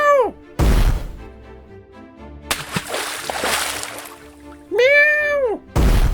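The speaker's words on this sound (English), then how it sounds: "Meow, meow, meow, meow." A cartoon cat meows several times, loud and close, with drawn-out rising and falling cries between splashy thumps and crashing bursts.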